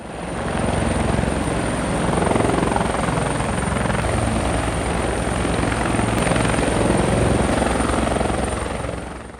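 A helicopter roars steadily overhead, its rotor thumping in a loud, constant drone that fills the whole stretch without any talking.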